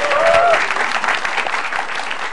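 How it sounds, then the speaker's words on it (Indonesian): Audience applause at a stand-up comedy show: dense, steady clapping from a crowd fills the whole stretch, with a brief voice over the start. "Tepuk tangan sekali lagi."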